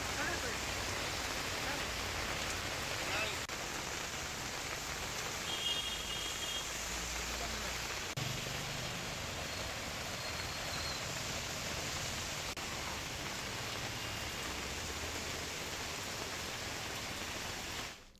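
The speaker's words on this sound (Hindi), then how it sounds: "इधर बिलासपुर में बारिश का दौर फिर शुरू हो गया" Monsoon rain falls steadily in Bilaspur, Chhattisgarh, a dense, even hiss of drops that holds constant for the whole stretch, with no talk over it.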